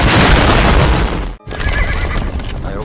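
Wild horses neigh loudly, a dense, harsh whinnying roar that fills the space, then breaks off in a brief silence before more shrill neighing and rumble return, close and overwhelming.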